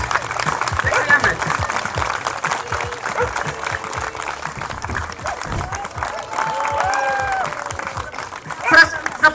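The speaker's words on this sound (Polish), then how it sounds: "Mam nadzieję, że dostaniemy duże brawa." Festival audience applauding at an outdoor village fête, steady dense clapping throughout with some crowd noise and voices mixed in, a brief louder burst near the end.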